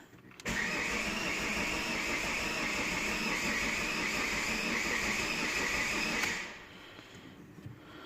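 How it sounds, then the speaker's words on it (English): A Ford Mondeo four-cylinder engine cranks steadily and loudly for about six seconds at close range, with an uneven starter churn that stops abruptly and does not catch. "Just for this, start cranking."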